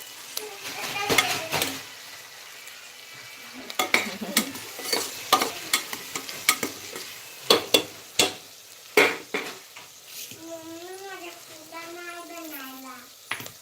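Masala frying in oil for khichdi, loud rhythmic scraping and clanking of a spoon against the pan over sizzling, with a voice speaking near the end.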